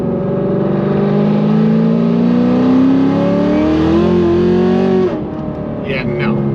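A Stage 4 ZL1 pickup truck accelerating hard, its engine droning loud and close with a steadily climbing pitch for several seconds before backing off, while a voice talks over it.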